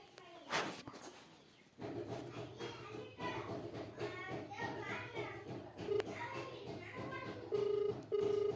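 A mobile phone call is placed and starts ringing: after some handling noise and talk, short steady ringback beeps repeat near the end, sounding faintly under a person's voice.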